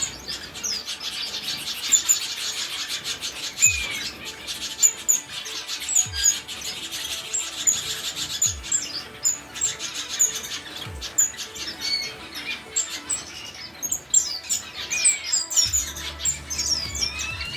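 Shaft-tail and red-headed finches chirp and tweet in a busy, constant high twittering, with a few soft low thumps underneath and no talking.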